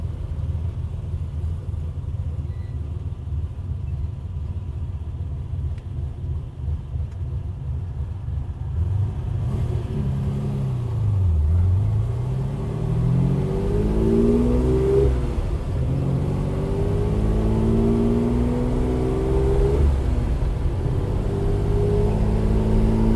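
A 1965 Ferrari 330 GT 2+2 with its 4-liter engine rumbles at idle, then revs and pulls away, the engine note rising and falling through several gear changes as it drives off, loud and steady throughout with no talk.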